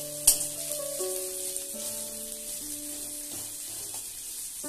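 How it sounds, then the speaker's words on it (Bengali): Onions frying in a pan over a low gas flame for a masoor dal tarka, with a soft, steady sizzle running under gentle background music. "এই সময়ে গ্যাসের ফ্লেমটা একদম লো করে দিয়ে পেঁয়াজটা ভেজে নিতে হবে।"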